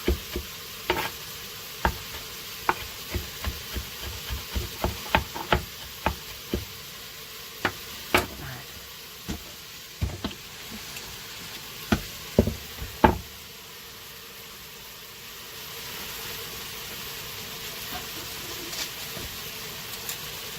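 Chicken sautéing in a pressure cooker with bay leaves, giving a steady background sizzle broken by frequent sharp knocks and scrapes of stirring, loudest in the first thirteen seconds before settling to a quieter sizzle.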